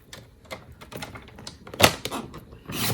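Cardstock being cut to size for a stamped Christmas Scotties card, heard as a series of short, crisp snips and clicks at close range, with one sharper, louder cut near the middle and no talking.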